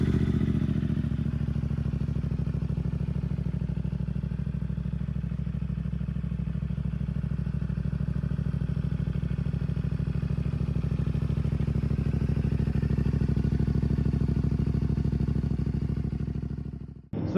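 A CFMoto 450 SS sportbike fitted with a Yoshimura exhaust riding along, its engine droning steadily and loudly for the whole stretch before cutting off abruptly at the end.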